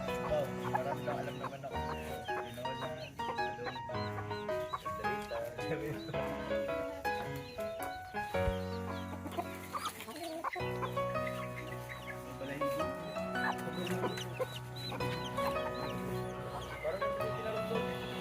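Chickens cluck and squawk continuously nearby, a dense chorus of overlapping calls from a busy flock, with a few voices mixed in.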